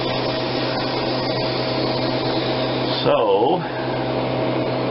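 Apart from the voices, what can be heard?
Harvest Right freeze dryer vacuum pump running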